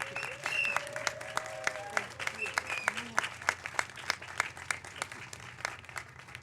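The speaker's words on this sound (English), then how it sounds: "Another round of applause for our mayor." An audience applauds the mayor at a Domestic Violence Awareness Month event, sparse individual claps ringing out at a moderate distance while voices talk over them.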